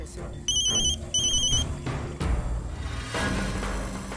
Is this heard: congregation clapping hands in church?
no